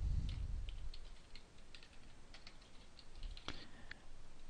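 Quiet keystrokes on a computer keyboard as code is typed, a light, uneven patter of clicks with brief pauses and one sharper tap near the end, close but soft.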